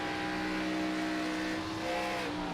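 Race car engine on the Pocono track in a racing video game, a steady loud droning roar with layered harmonic tones throughout, no talk over it.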